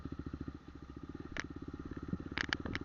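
A scooter or motorcycle engine putters in a steady, rapid rhythm while riding along a road, with a couple of brief sharp clanks and clatters on top.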